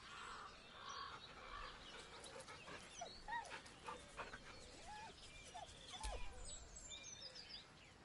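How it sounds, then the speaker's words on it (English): A dog whimpers nervously in the video game Baldur's Gate 3, with faint, thin whines and soft yelps over a quiet ambient background, no voices. "The dog whimpers nervously"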